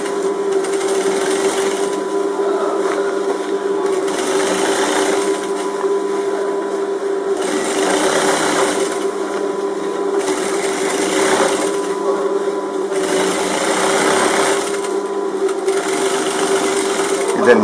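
A sewing machine stitches a Moroccan djellaba in a steady whirring run, its motor hum pulsing as the stitching speeds and slows in repeated bursts, with someone talking over it.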